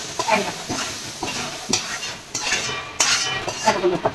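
Metal utensils clink and scrape against a pan as it is taken off the stove, a series of sharp knocks with a faint sizzle underneath and no talking.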